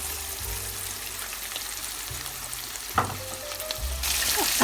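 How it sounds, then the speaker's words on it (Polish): Steady, crackling sizzle of fresh sea bass frying in a hot pan, with occasional scrapes and clinks of a utensil against the pan. "No i smażymy na rumiano z obu stron."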